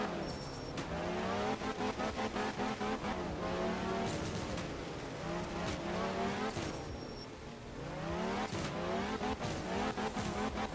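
Rally car engine in the racing game Art of Rally, revving and shifting through gears with repeated rising engine sweeps, tire skids and brief gaps, loud and close throughout with no talk.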